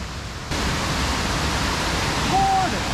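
A large waterfall at Akame Shijuhachi Falls runs in high water, pouring as a dense, steady roar that fills the whole stretch after a slightly quieter opening moment.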